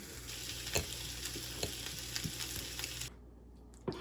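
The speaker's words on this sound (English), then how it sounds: "Onion sauteing, some peppers that I'm about to throw in the pan" Onions sauté in a pan with a steady bright sizzle, broken by a few utensil clacks and stirring scrapes, before the sizzle cuts off abruptly near the end.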